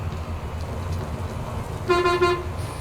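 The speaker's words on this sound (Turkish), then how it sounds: "Kornayı da duyun." A steady engine rumble of a MAN Lion's Coach bus in Euro Truck Simulator 2 runs throughout, then a bright horn honks briefly near the end, a loud pulsing toot over the motor drone.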